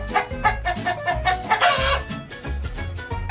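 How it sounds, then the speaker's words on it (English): A farmyard rooster crows and clucks in short bursts, sitting over a steady, bouncy music backing that plays throughout. "Rooster."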